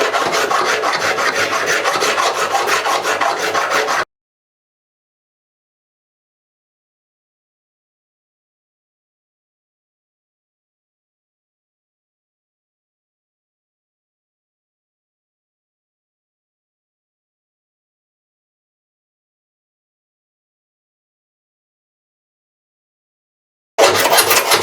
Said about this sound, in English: we're going to focus a lot of filing on this area right here